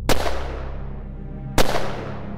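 Two sharp, loud gunshots from an assassin crack about a second and a half apart, each followed by a ringing, slowly decaying echo.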